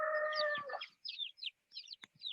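A mother hen and her newly hatched chick make sounds, a sustained tonal call giving way to a run of short, high, chirpy clucks and peeps in quick succession, fairly faint and close in a quiet space.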